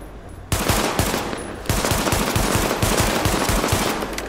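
Sustained automatic gunfire in the video game The Division, loud rapid rhythmic bursts that start abruptly and continue almost unbroken with steady repeated shots.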